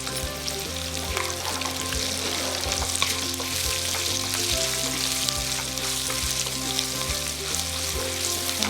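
Green chillies and curry leaves fry in hot oil for a curd rice tempering, giving a loud, steady sizzle that runs throughout with a faint low hum beneath.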